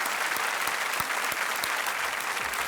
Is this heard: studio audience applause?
yes